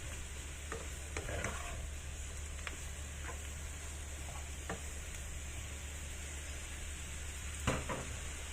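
Mushrooms sizzle softly in butter in a pan while a utensil stirs with faint scattered clicks and scrapes over a steady background hiss, quiet and without talk.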